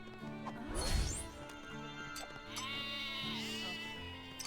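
Sheep bleat repeatedly in Lego Marvel Superheroes 2, wavering cries layered over game music and a sharp crashing impact early on, all fairly quiet.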